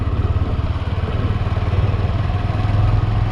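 A motorcycle engine runs loud and close with a steady, throbbing drone and a faint clattering texture, holding an even pitch throughout while being shifted up through the gears, with no talking.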